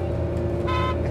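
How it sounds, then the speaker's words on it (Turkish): A tow truck gives a short honk of its horn as a greeting, one brief toot over steady road engine noise. "Çekici, çekiciyi gördüğü zaman korneyle birbirine selam verir."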